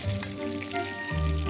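Cod-stuffed peppers sizzle in a frying pan, a steady close crackle with a low hum underneath and a louder swell near the end, and no voices.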